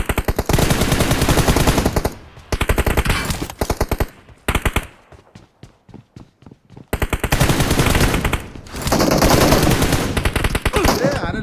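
Rapid automatic gunfire fills a mobile shooter TDM match, loud close bursts broken by short pauses, with one stretch of slower single shots in the middle.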